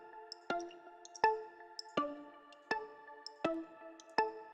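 Two layered synth sounds, a bell tone stacked with a simple dark block, strike in a repeating beat pattern for a hip-hop track: six evenly spaced bright hits with short ringing tails, clean and alone.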